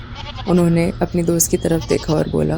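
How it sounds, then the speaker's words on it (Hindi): A baby goat bleats in several wavering, high cries, close and fairly loud, while someone narrates over and between the calls. "वहाँ एक बकरी का बच्चा रो रहा था"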